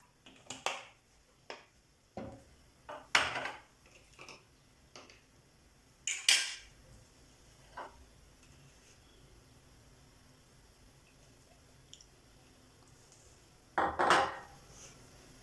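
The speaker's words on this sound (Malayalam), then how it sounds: "ഇനി ഒരു പാൻ അടുപ്പത്ത് വെച്ച് അത് വറുത്ത് കോരാനുള്ള എണ്ണ ഒഴിച്ചു കൊടുക്കാം" A pan set onto the stove for frying chicken cutlets: several sharp metallic clanks and knocks, spaced irregularly and fairly faint, then a final louder clatter near the end, with no speech.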